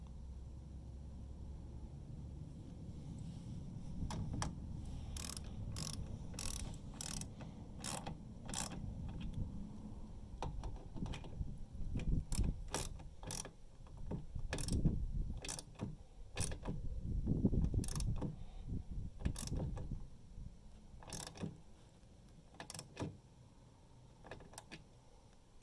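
A ratchet with a half-inch socket tightens caster bolts on a U.S. General five-drawer mechanic's tool chest, giving rapid close clicking in bursts over a low rumble of handling, with no speech.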